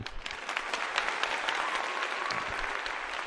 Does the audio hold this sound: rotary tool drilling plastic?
no